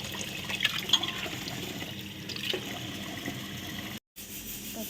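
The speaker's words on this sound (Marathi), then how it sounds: "तांदूळ चार पाच पाण्याने धुतले" Water sloshes and splashes steadily as Indrayani rice is swished and rinsed in a vessel, with a brief dropout near the end.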